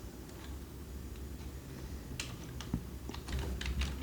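Someone types C++ code on a computer keyboard: scattered, fairly quiet key clicks at first, then a quicker, denser run of keystrokes near the end, with no talking.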